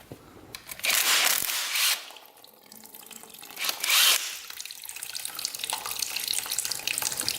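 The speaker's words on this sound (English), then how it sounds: "Now it's draining." Liquid drains from a Kawasaki dirt bike during a repair, two loud bursts of splashing pour up close followed by lighter steady trickling and dripping, no talking.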